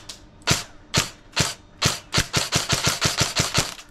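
An airsoft DSG gun rated about 400 FPS and 60 rounds per second fires at a visor lens: a few spaced sharp cracks, then a rapid rattling burst of about a dozen loud, close shots.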